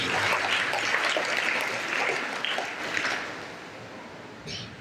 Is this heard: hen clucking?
no